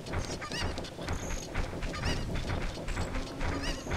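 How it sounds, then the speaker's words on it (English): Angry cucco chickens squawk in a Legend of Zelda game, a dense run of loud honking, cackling cries repeating over about four seconds with game sounds behind. "Chicken's peeved with me."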